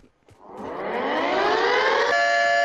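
A loud civil-defense style alarm siren in a video game rises in pitch from a low start and holds a steady wail, with no talking.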